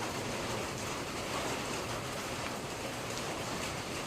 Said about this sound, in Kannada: ಮಳೆ ಕೂಡ ಬರ್ತಾ ಇದೆ